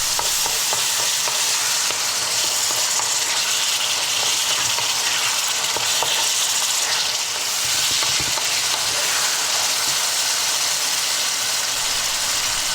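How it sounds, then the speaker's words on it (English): Fresh tomatoes sizzle and fry in a hot wok, with steady, loud crackling and scraping stirs that carry on throughout and no talk over them. "I'm now going to add 1 cup of tomatoes, fresh tomatoes, going to get them in the mix"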